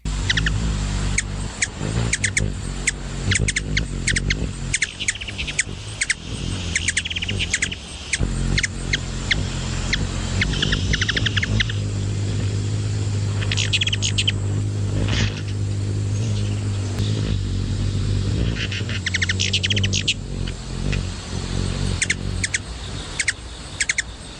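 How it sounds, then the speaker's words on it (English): Ruby-throated hummingbirds at a feeder give rapid, sharp chips and twittering calls, close and busy throughout, over a steady low background hum. "So here I will give you the ruby-throated hummingbird for 25 seconds for your bird break."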